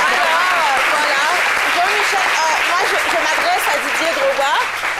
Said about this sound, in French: Voilà quelques applaudissements de l'équipe.